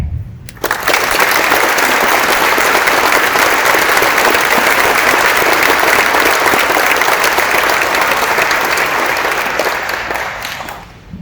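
Loud, sustained applause from a large audience welcoming a panel of D-Day veterans at the National WWII Museum, swelling in after a brief pause and holding steady for about ten seconds before tapering off.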